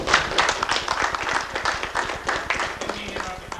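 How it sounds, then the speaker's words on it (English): Audience applause at a 1990 ISDC space conference session, a dense wash of many hands clapping steadily throughout, with some crowd murmur mixed in. "let's give Jeff a round of applause also"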